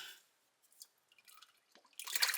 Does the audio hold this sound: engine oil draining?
yes